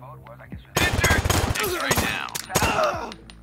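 Gunfire in the tactical shooter Door Kickers erupts in rapid, loud bursts of shots that keep repeating over a few seconds, with a voice talking under the shooting.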